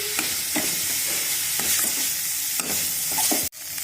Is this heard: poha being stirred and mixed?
yes